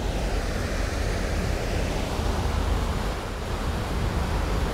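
A steady, rushing roar of ocean surf heard from a ferry fills the scene without pause, broad and loud, with wind blending into the wash of the waves.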